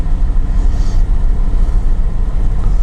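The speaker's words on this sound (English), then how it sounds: "Press the brake pedal down, press the start button, engine starts." A Toyota Alphard Executive Lounge 3.5-litre automatic idles right after a push-button start, giving a loud, steady low rumble that holds unchanged throughout with no voices.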